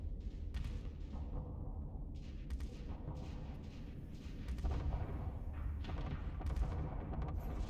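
Ballista weapons firing in a video game: a dense run of booming thuds and sharp impacts, loud and continuous, with rumbling low end throughout and no talk.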